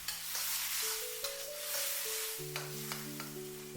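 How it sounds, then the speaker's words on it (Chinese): Green peas tossed quickly with cooked-down tomato in a wok, a steady sizzle with rhythmic stirring scrapes under a sustained musical backing, no talking. "快速翻炒均勻"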